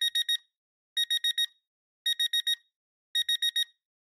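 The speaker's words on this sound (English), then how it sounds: "And for the final one, we'll choose an alarm sound," An electronic PowerPoint alarm sound beeps in four quick bursts of four pulses each, evenly spaced, shrill and clean against silence.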